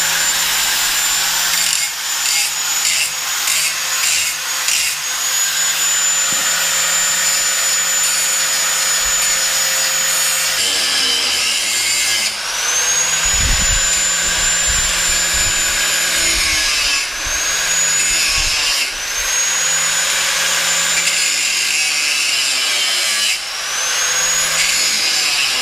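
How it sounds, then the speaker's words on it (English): Metal plate for an E46 M3 secondary air pump delete being cut and ground to fit with a power tool, a steady loud whining grind with rising and falling pitch sweeps throughout. "We're gonna cut it, we're gonna grind it to make it fit, and then put 2 holes in it."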